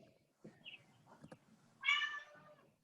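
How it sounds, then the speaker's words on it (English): A cat meows once, a short faint call near the middle followed by a louder, clearer meow toward the end, over a quiet indoor background with soft scattered noises. "Whoever's cat just meowed"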